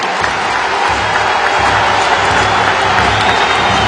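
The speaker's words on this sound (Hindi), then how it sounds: "जोर से तालियों के साथ मेरे इस बात को स्वीकार कीजिए।" A large political rally audience cheers and applauds loudly in response to a call for loud clapping, producing a dense, continuous roar of crowd noise with no pauses.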